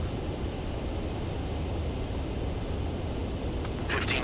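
A fighter jet on landing approach in the video game Ace Combat 7 produces a steady, loud engine roar that holds evenly throughout with no talking.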